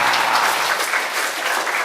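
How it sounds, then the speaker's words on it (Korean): A lecture audience bursts into a loud, thick wash of continuous clapping that stays close and steady for the whole short stretch. "박수 한번 주세요."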